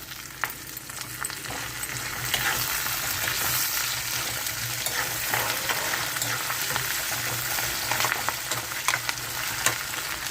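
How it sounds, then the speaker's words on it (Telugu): Curry leaves frying in hot oil with lentils, a steady close sizzle and crackle running throughout with occasional faint stirring, no voices. "వేగుతున్నాయి కదండి వేగాలు వేగుతున్నాయండి"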